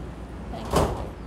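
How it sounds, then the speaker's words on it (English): Metro train doors sliding shut in a single brief whoosh over steady station rumble, with no talk. "Please stand clear. The doors are closing."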